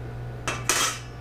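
A pan and cutlery being handled, with two quick metallic clatters about a quarter second apart over a steady low hum.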